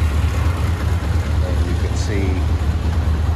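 A 1981 Honda CB 750 F motorcycle engine idles steadily and close by, a low, even rumble throughout, with someone speaking briefly over it.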